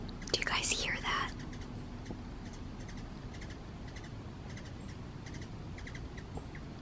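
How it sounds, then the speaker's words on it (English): A hummingbird gives thin, high chirps, a scattered run of tiny tweets in the background, opening under a brief whisper. "I cannot get over the sound of the hummingbird chirping."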